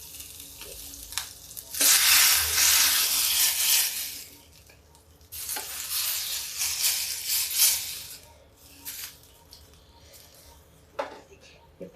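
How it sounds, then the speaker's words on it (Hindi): Cinnamon, black pepper, cloves and cumin hit hot oil for a tadka tempering over aloo parwal curry, loud bursts of hissing sizzle swelling and fading, with stirring clinks and a faint voice underneath. "ये मेरा तड़का"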